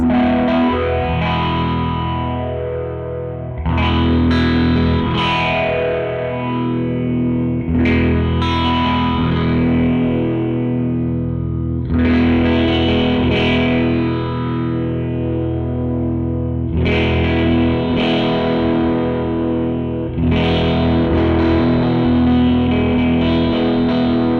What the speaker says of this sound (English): So let's turn the width back down and go through the center point so you can hear how that changes.